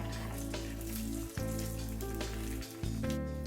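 Hot oil tempering with sesame seeds, chillies and curry leaves, a steady close crackling sizzle with a faint continuous hum underneath and two short dips in the noise.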